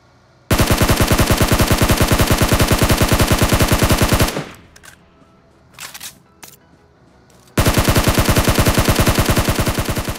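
Rapid automatic gunfire in PUBG Mobile rattles in long bursts, breaks off for a few seconds of scattered shots and clatter, then resumes at full loudness.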